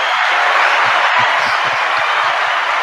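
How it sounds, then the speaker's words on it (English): A steady wash of applause comes from a sound-effect button on a podcast and holds at an even level throughout, with faint voices beneath it. "Hit that applause button for me"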